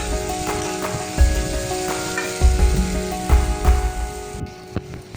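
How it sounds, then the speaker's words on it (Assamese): Cumin crackles and sizzles in hot oil, with intermittent thuds and scraping of a spoon against the pan, fairly close and loud. "তাৰপিছত বটি থোৱা জালুক জিৰাখিনি মই একেলগে ভাজি লৈছোঁ।"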